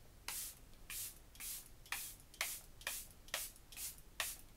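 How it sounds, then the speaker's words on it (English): Charlotte Tilbury setting spray misted onto a face in eight quick, evenly spaced pumps, each a close, crisp hiss with no talking. "I'm gonna go ahead and spray my face Charlotte Tilbury setting spray is the most expensive one that I have."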